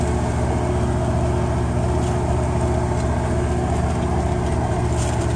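A vehicle engine labours as it rolls slowly over rough, uneven soil, giving a steady, loud low rumble with a continuous mechanical drone throughout and no talk.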